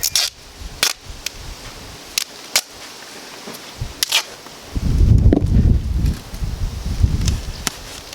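Gusty wind buffets outdoors at sea with low rumbling bursts, mixed with sharp clicks and knocks; the rumble swells loudest in the second half.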